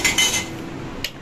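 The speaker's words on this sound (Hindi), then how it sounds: "बर्तन लगा रही हूँ" Metal utensils and dishes clink and clatter as they are put away in a home kitchen, a quick cluster of bright rattles at the start and a single sharp clink a moment later, close and loud with no talk.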